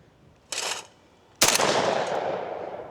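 Two sharp, loud shotgun blasts from a Savage 775, the first short and the second heavier with a long, decaying roll of echo afterward, fired outdoors with no talking.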